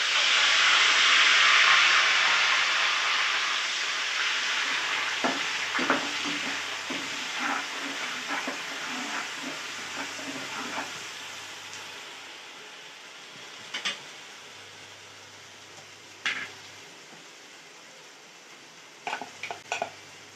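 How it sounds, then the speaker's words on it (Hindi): Ground onion paste frying in hot oil with whole cloves, cardamom and black peppercorns, a loud steady sizzle and hiss that slowly calms, with occasional stirring scrapes and clinks of a spoon against the pan. "साथ ही में हम ये जो प्याज पिसे हुए वो डाल देंगे।"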